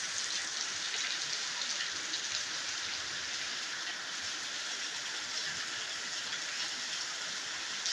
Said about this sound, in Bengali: হ্যাঁ, খুব বৃষ্টি হচ্ছে।